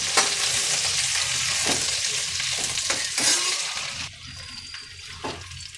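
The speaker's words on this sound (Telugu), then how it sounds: "ముందుగా కట్ చేసుకున్న బెండకాయల్ని నార్మల్ ఫ్రై చేసుకోవాలి" Cut okra frying in two to three spoons of oil for a restaurant-style okra curry, a steady close sizzle with scraping stirs, sharp utensil clicks, and quieter crackle near the end.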